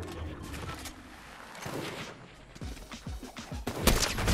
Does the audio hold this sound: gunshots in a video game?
yes